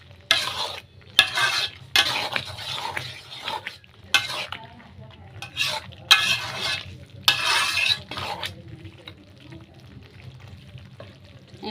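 A spoon scrapes and stirs fried onion sprinkled with cumin powder in a pan, in repeated loud strokes over a quiet background sizzle.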